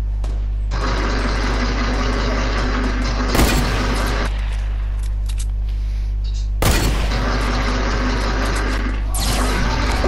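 Loud gunfire rings out in a 20-versus-20 online shooter match, with sharp sniper shots landing over a constant dense rumble of battle noise.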